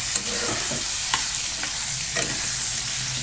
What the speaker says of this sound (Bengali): আলু আর পটল ভাজতে দিয়ে দিয়েছি